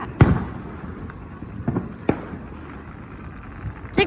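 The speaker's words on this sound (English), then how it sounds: "The fireworks show." Distant fireworks pop and thump at intervals, a few sharp bangs spread across the scene with a steady outdoor background rumble between them; no talking.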